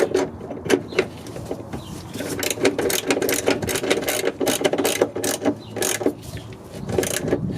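Ratchet wrench tightening the compensator toe arm bolt on a Honda Civic, giving close, loud bursts of rapid clicking that start and stop in quick repeated strokes.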